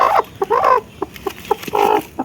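A desi hen on a farm clucks close and loud in a series of short, uneven calls with a couple of longer drawn-out notes.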